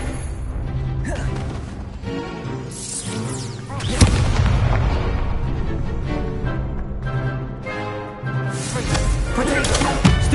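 A fire spell cast in Hogwarts Legacy bursts with a heavy boom and crackling roar amid continuous game effects, loud and close, followed by sustained rumbling flames.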